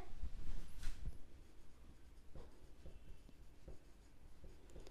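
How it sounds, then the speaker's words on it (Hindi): Pen writing an account heading on paper for a ledger lesson, close, faint scratchy strokes in short irregular bursts with no talk over them. "तो यहाँ पे लिखते हैं भूषण अकाउंट"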